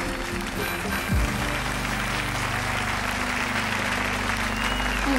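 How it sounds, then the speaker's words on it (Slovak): An audience applauds at a diploma presentation, steady clapping held for several seconds over a low electronic hum and a few sustained tones. "Potlesk, prosím."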